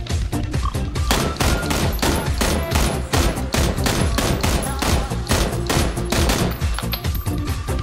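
Rapid bursts of automatic gunfire in PUBG crackle continuously, dense and loud, with sharp repeated shots packed tightly together.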